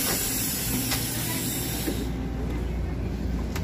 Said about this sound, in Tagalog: pakita ko sa inyo yung loob ng train